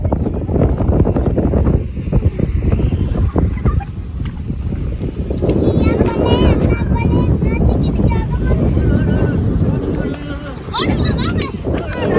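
Strong wind buffets the microphone outdoors on a farm, a loud continuous roar throughout, with people talking over it and fowl calling in the background.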